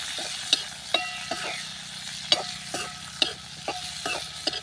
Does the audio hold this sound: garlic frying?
yes